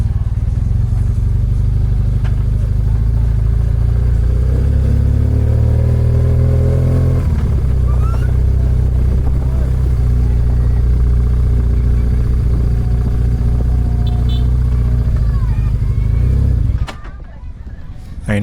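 Motorcycle on a sandy track at Lake Turkana, its engine droning loud and steady, revving harder mid-way as it bogs in the sand in the wrong gear, then cutting out abruptly near the end, with a voice talking over it.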